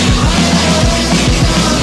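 Electronic drum kit pushed through a distortion pedal and heavy reverb, giving dense crushed hits in a steady rhythm over a thick, washy wall of noise.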